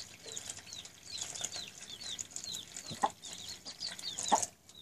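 Newly hatched chicks give many high, repeated cheeps close by, with a few louder clucks and brief rustles among them, and no talking over the chirping.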